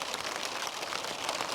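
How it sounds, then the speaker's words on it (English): Heavy rain drums steadily on a tarp shelter at a lakeside wild camp, a soft, continuous patter and hiss heard alone. "It is hammering it down with rain again."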